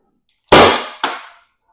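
A Byrna HD launcher fires a single shot, a loud close sharp pop followed by a second softer crack a half-second later, then quiet.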